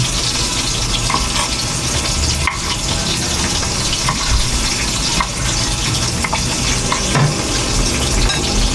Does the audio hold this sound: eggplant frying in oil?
yes